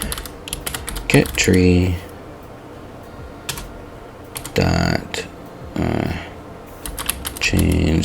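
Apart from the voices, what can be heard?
typing on a computer keyboard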